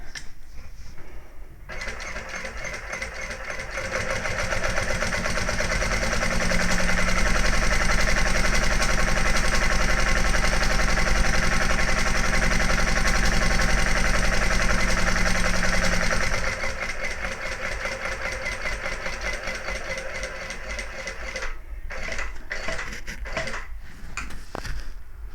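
A sewing machine top stitches a handbag, a steady mechanical whir and rapid needle chatter that runs loud and unbroken for most of the stretch, with sparser stop-start stitching before and after.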